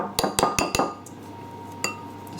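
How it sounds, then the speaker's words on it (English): Cheesy bread dough mixture stirred in a bowl for low-protein pizza bread, four sharp metallic clinks in quick succession followed by a pause and one more clink, close up and alone. "Make sure it all gets stirred round, mixed in"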